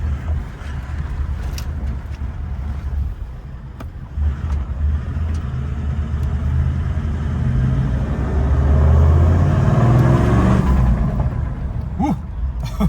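A Toyota Land Cruiser LX V8 engine roars with a deep, continuous rumble, swelling louder toward the end amid wind and road noise, no talking.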